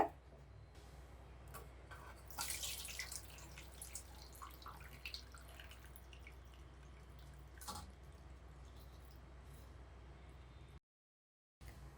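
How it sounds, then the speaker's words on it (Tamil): Cooking water from boiled drumstick leaves is strained in a kitchen, a faint steady trickle with scattered drips and small clinks, and no talking. "இப்போ நம்ம வேக வச்ச கீரை தண்ணியை வடிச்சுக்கலாம்"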